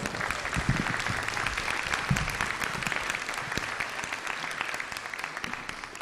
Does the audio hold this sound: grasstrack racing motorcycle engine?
no